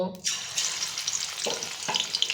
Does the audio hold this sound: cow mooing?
no